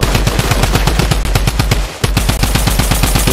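Rapid, loud bursts of Tommy gun fire in the video game Fortnite crackle close up in a fast even rhythm, with a brief pause midway before the automatic shots resume.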